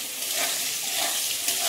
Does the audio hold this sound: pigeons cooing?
no